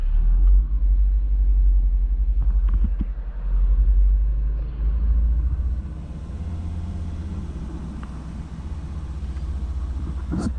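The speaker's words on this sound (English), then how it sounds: "And what we're going to do is now rev the engine." A Volvo 2.4 non-turbo petrol engine with a misfire fault rumbles loud and close, swelling in a few low revs before settling back to a steadier, lower idle drone.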